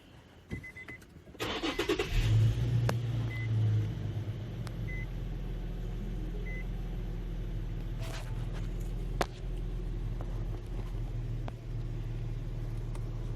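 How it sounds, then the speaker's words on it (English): A 2007 Infiniti car engine cranks briefly and catches, then settles into a steady, loud idle rumble close by, with a faint click and a soft bump later on. "And we're going to crank the car up."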